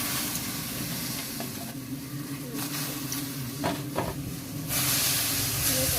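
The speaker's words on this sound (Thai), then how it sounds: "เอาเอากุ้งที่เราเตรียมไว้นี้เนาะ มาคั่วค่ะ ให้มันสุก" Prepared shrimp dry-roasting in a hot pan for Isan-style cooked shrimp salad, giving a steady, close hiss and sizzle with occasional stirring scrapes throughout.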